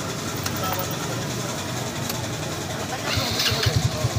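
A restored motorcycle engine runs nearby, a low steady idle that picks up into louder, rhythmic throbbing pulses near the end, with someone talking in the background.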